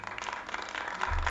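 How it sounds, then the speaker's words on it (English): Party guests at a rich garden party in The Boondocks applaud in a brief burst of dense, crowd-wide clapping, steady and moderately loud. "No matter what happens, these people just keep applauding."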